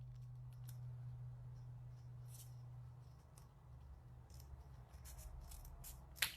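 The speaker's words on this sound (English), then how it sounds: "you're going to take your scissors" Scissors snip through fan-folded paper during a kids' flower craft, a scattering of crisp, close cuts over a low steady hum.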